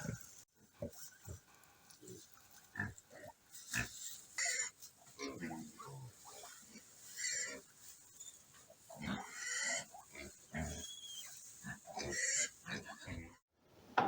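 A sow that has just farrowed and her newborn piglets grunt, squeal and snuffle close by in a pig pen, in irregular bursts with brief pauses, and a person speaks softly now and then.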